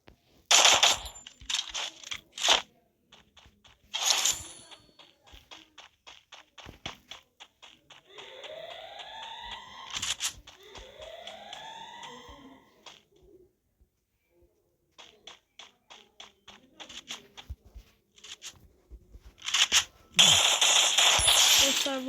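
Video game gunfire comes in scattered sharp shots and short bursts, with whooshing effects and cooing-like sounds in the middle and a louder burst near the end.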